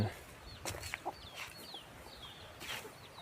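Chickens cluck in a coop for laying hens, several short calls scattered across a quiet outdoor background and heard near to mid-distance.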